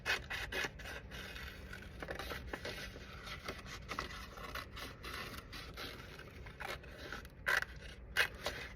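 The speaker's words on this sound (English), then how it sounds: "I'm going to take some scissors and cut out that plant" Quiet snipping and rustling as scissors cut through paper, with irregular scraping strokes and a few sharper clicks near the end.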